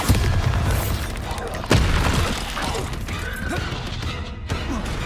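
A Bombarda explosion spell in Hogwarts Legacy lands as a heavy booming crash with debris clatter, followed by a second thump near the end, all within dense, loud game ambience.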